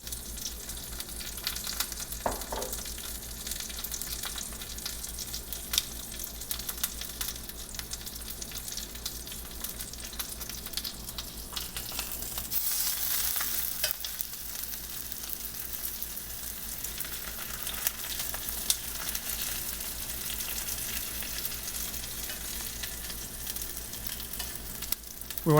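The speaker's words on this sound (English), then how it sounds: "We want to try to sear all sides of the pork" Pork tenderloin coated in a paprika dry rub searing in plenty of hot oil, a continuous close, crackling sizzle with occasional spits and pops and no talking.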